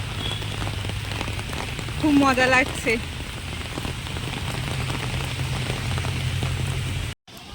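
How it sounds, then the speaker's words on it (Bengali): Heavy rain pattering on an umbrella on a Kolkata street, a dense steady drumming hiss with a brief stretch of cheerful talk partway through. "খুব বৃষ্টি হচ্ছে আজকে"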